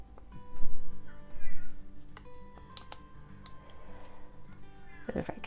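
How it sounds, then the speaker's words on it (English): A cat meows a few times from somewhere nearby, mixed with light clicks, rustling and faint background hum. "I've got a cat crying at the door"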